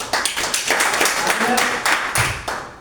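An audience claps for a person at a gathering, a burst of close, dense hand claps with voices mixed in.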